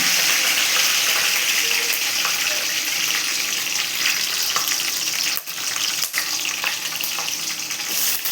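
Green chillies go into hot oil with fenugreek and curry leaves for a bitter gourd kuzhambu, giving a loud, continuous hissing sizzle throughout with a couple of brief dips and clinks. No talking.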